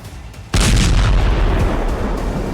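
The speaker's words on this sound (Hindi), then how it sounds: "ये बम धमाका पुतिन के गेरबेरा लड़ाके का है।" Bomb blast from a Russian Gerbera drone attack in Ukraine, one sudden loud deep boom after a half-second of low rumble, then a long roaring rumble that stays heavy to the end.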